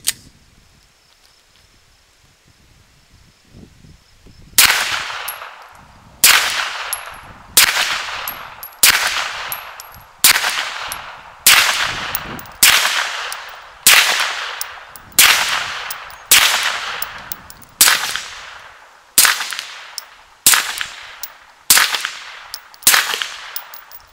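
Rifle shots firing steel-case and brass-case ammunition ring out outdoors, about fifteen sharp, loud reports at a steady pace of roughly one every second and a half, each with a decaying echo, after a few seconds of quiet.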